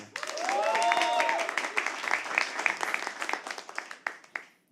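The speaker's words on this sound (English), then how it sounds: "you have to pretend like they're coming on stage and you have to clap" A small live audience at a poetry open mic at The Habitat claps enthusiastically, a dense burst of applause that swells, then thins into scattered claps, with voices and a brief cheer at the start.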